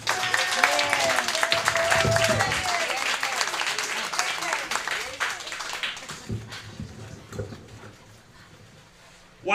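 Comedy club crowd at a Fort Lauderdale bar applauds and cheers a comedian taking the stage, dense clapping filling the room with whoops above it, thinning out toward the end as the noise fades.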